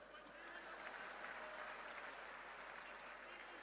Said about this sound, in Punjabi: ਤਾੜੀਆਂ ਹੀ ਮਾਰ ਦੋ ਬਸ ਹੁਣ ਤਾਂ